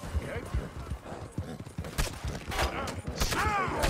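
Hoofbeats of a Flaxen Chestnut Morgan galloping in Red Dead Redemption 2, rhythmic thuds amid game gunfire bursts, with someone talking over them.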